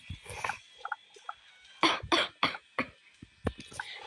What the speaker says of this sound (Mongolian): Би жоохон ингээд ханиалгаад байгаа шүү.